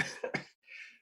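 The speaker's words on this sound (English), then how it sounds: "sorry for my cough." A single short, dry cough, close and fairly quiet, with a softer breathy trailing sound after it.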